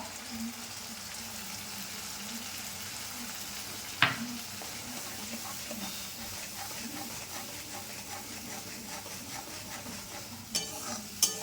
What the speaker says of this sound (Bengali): দিয়ে দেবো টমেটো পেস্ট, ভালো করে কষিয়ে নেব